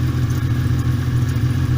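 A VW Caravelle T3 van fitted with a Subaru H6 3.0 engine idles steadily up close, a low continuous hum with light mechanical clatter and no voices.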